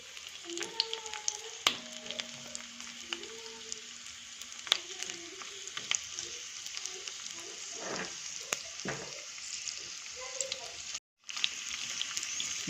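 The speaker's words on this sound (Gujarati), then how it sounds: "મિત્રો આપણો ગુંદર પ્રોપર તળાય એટલે આપણે એને બહાર લઈ લઈશું।" Edible gum (gund) fries in a pan of hot oil, giving a steady soft sizzle and crackle with occasional stirring clinks, while faint background tones and brief talk sit over it.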